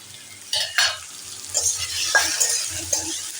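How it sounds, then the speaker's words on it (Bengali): Cubed potatoes and a medium chopped onion fry in a pan, a steady sizzle broken by several sharp stirring scrapes and clinks of a spatula, close and fairly loud with no talk. "আলুটা নাড়াচাড়া করে আমি একটা মাঝারি সাইজের পেঁয়াজ কেটে রেখেছি, পেঁয়াজটা আমি এর মধ্যে দিয়ে দিলাম"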